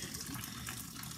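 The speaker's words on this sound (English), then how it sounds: "draining some of the pasta water off" Pasta water pours off lobster ravioli into a kitchen sink without a colander, a steady, close, broadband rush of running liquid that holds evenly throughout with no talk.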